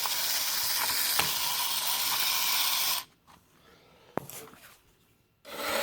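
Motor of a 1960s Marx Dalek toy running with a steady close whirring rasp for about three seconds, then cutting off into near quiet with a single faint click before starting up again.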